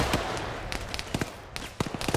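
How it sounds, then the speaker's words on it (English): A short lob grenade in a multiplayer shooter match goes off among rapid crackling bursts and sharp pops, loud and close, with no talk. "Ooh, a short lob grenade."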